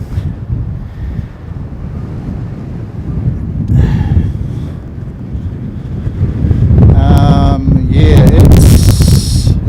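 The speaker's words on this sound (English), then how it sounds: "It's very, very windy" Strong wind at an aircraft-spotting mound buffets the microphone in low, rumbling gusts that build toward the end, with faint higher tones and clatter mixed in.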